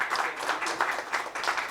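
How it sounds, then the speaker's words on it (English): An audience at a conference applauds, giving a brief burst of steady, moderately loud clapping from many hands in a room. "So, one big round of applause for Dr."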